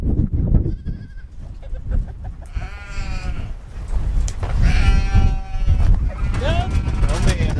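Several goats bleat loudly and repeatedly at feeding time, close by, over farmyard background noise and a bit of human voice.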